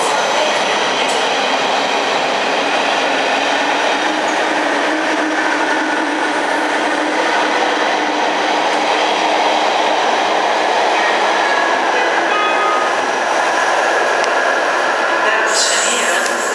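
Dutch ICMm intercity trains departing Schiphol underground station rumble loudly and steadily, with clattering wheels and faint squeals throughout, close by and echoing in the enclosed platform space.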